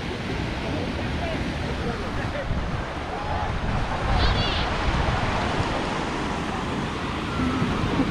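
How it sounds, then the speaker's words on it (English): Ocean surf washing onto a sunny Florida beach at Pensacola, a continuous broad rushing wash mixed with wind buffeting the microphone, moderately loud and steady throughout. "we are spending the day at the beach"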